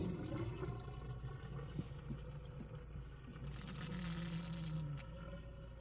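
Water runs steadily through a hose into an RV fresh-water tank, a continuous gurgling rush with hollow filling tones, heard up close with no talk.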